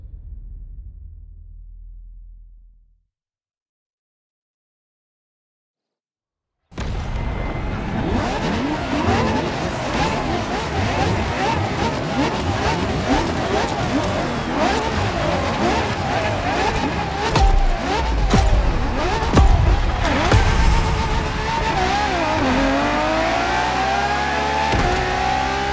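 A 2013 Ferrari LaFerrari hybrid supercar in The Crew Motorfest. A low rumble fades to silence, then the engine bursts in, revving hard and loud through rising gear pulls, with tires squealing as it drives on.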